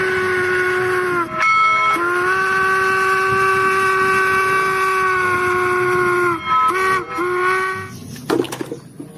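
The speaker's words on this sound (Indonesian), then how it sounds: "lokomotif kereta api" A toy train locomotive lets out a long, loud, tonal whistle that holds steady for several seconds, then breaks into shorter toots before cutting off with a few clicks.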